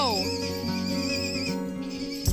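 A miniature show horse in a barn gives a loud, quavering whinny that starts high and falls, followed by softer rumbling and a brief knock, with voices nearby.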